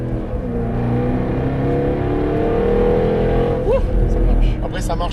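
A Jaguar F-Type SVR on a racetrack, its engine pulling steadily up through the revs in a loud, continuous drone. The pitch climbs before a brief shift, while people talk over it inside the car.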